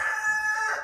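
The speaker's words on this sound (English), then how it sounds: "A rooster." A rooster crows on a farm, one short sustained cock-a-doodle-doo fragment, fairly loud and near, with no voices heard over it.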